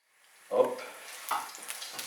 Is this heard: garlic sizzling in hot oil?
yes